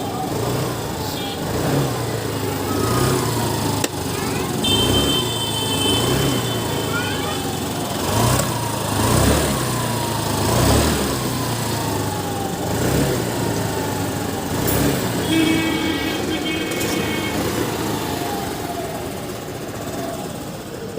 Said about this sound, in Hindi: इग्निशन ऑन किया और हम सेल्फ स्टार्ट करेंगे बाइक को